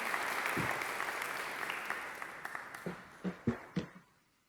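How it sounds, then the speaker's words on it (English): An audience claps after a keynote address at a spirituality festival, a full sustained round of applause that thins out into a few last loud individual claps before fading to quiet. "A huge round of applause"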